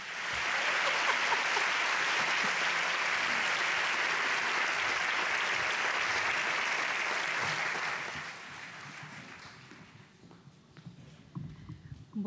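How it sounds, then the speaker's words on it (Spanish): An awards-ceremony audience gives a long, loud round of applause for a singer, steady for about eight seconds before fading to scattered claps and faint shuffling. "Esos aplausos que no caigan."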